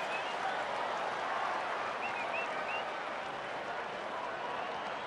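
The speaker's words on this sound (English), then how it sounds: "Big crowd buzzing here in the ninth." Big baseball stadium crowd buzzing and applauding in the ninth inning of a Cubs home game against St. Louis, a steady wash of clapping and murmur with faint whistles, continuous and moderately loud.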